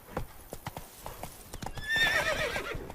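Horse hooves clip-clop in a quick galloping rhythm in The Witcher 3, with the mount letting out a whinny partway through, loud and close against light game ambience.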